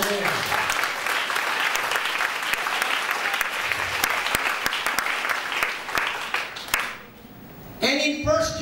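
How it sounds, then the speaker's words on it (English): A church congregation claps together for several seconds, loud dense applause with distinct individual claps, which fades out near the end before a voice begins speaking. "let's clap our hands to the Lord"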